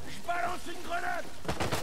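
In Uncharted 4, a short burst of gunfire cracks out near the end, following someone speaking French over steady in-game background noise.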